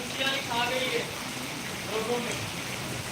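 Steady rain falls in Panthawada, a continuous broadband hiss with a few faint voice-like tones rising briefly over it.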